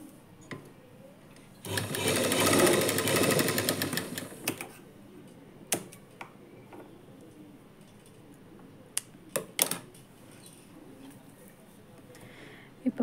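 A sewing machine stitches a lining blouse in one short burst of rapid, dense whirring lasting about three seconds, followed by scattered clicks and light handling noises in a quiet room.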